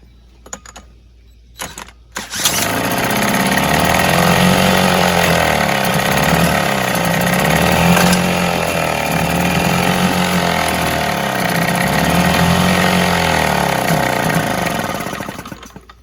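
A 1975 Mercury 4 hp outboard motor starts after a few faint sounds and runs steadily for about 13 seconds, a loud, close, buzzing drone with a slight pulsing rhythm, then cuts off at the end.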